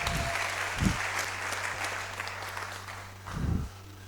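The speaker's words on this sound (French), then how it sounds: "Applaudissons le Seigneur." Applause for the Lord in a church during a sermon, a steady wash of congregational clapping that carries through the whole stretch, with a low steady hum and brief thumps underneath.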